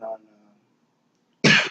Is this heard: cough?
yes